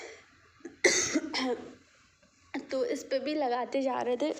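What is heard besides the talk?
coughing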